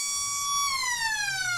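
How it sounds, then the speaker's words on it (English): A long electronic siren signals the end of an Australian football match at the Eastern Oval, a steady loud tone that slides slightly downward in pitch, heard alone with faint crowd noise beneath. "Siren sounds!"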